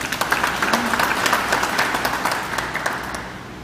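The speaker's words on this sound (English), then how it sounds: "I think you deserve a round of applause for that." An audience at a police anniversary award ceremony applauds, with dense, even clapping from a crowd in a hall that holds steady and then fades slightly at the end.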